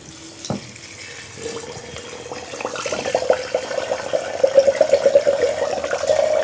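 Corn moonshine at 100 proof poured into a container, a steady liquid trickle building into a louder, bubbling gurgle as the vessel fills, close and alone without talk.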